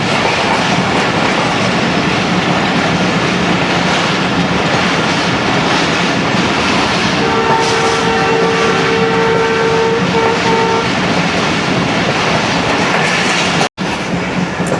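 A Sialkot Express passenger train runs on rails between Narowal and Wazirabad, giving a loud, steady rumble with rhythmic clickety-clack from the wheels and a brief tonal whine partway through, with no talking.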